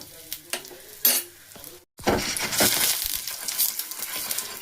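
Cumin, nigella seeds, ajwain and asafoetida sizzle and crackle in hot oil in a pan, with a few sharp bursts, a brief silent break, then a loud, steady frying hiss close by.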